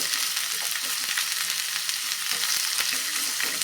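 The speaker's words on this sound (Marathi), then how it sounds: "कांदा शिमला मिरची आणि टोमॅटो आणि हे फक्त एक जस्ट मिनिटभर आपल्याला फक्त परतून घ्यायचं आहे" Onion, capsicum and tomato sauté on a hot tawa with a steady, loud broadband sizzle and occasional soft stirring taps, no voices.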